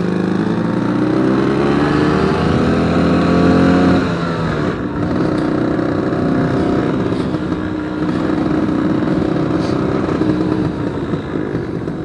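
A 1980 Vespa P200E, a 200cc two-stroke scooter, rides along the street, its buzzy engine loud and close, rising through the revs and then shifting down to a steady, slightly falling drone.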